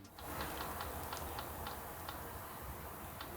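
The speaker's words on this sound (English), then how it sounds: "you can even customize the sound effects of your typing." Keystrokes on a Samsung Galaxy phone keyboard set to an arcade sound theme produce faint, evenly spaced ticks in a quiet room, with short pauses between taps.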